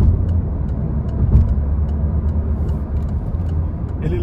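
Cabin noise inside a 2024 Peugeot 208 Style with a 1.0 engine while driving, a steady low road and engine rumble with faint ticks, muted by the insulation and continuous throughout.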